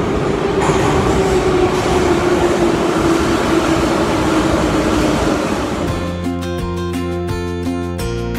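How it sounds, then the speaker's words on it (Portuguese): A Moscow metro train rushes through a station with a loud, dense roar that gives way to rhythmic clacking wheels near the end, heard close on the platform with no talk. "Tem um metrô passando!"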